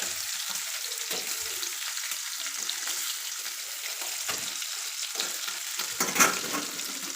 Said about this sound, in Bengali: ডিমগুলো যখন ভাজা করছি না তখন কি সুন্দর খলো খলো খলো খলো করছে